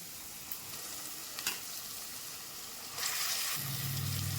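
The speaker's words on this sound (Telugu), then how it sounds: "ఇప్పుడు పచ్చడి ఇందులో వేసి వేయించుకోండి" Soft frying hiss in a pan with a couple of light clinks, then a louder burst of sizzling as gongura (sorrel leaf) chutney is added to fry.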